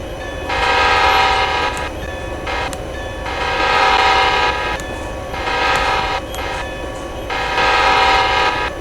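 Train horn from a train and rail yard simulator game, sounding in several long sustained blasts with short gaps between them over a steady rumbling rail background, loud and close, with no talking.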